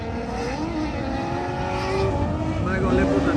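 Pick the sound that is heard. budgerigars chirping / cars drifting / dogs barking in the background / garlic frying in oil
cars drifting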